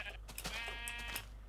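A blocky Minecraft sheep gives a single nasal, wavering bleat lasting about a second, clear and close against a quiet backdrop.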